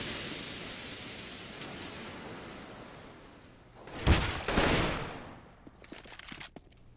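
Gunfire in a Counter-Strike match on the Mirage map, a hissing background giving way to a sudden loud burst of shots around the middle, then scattered fainter clicks and pops.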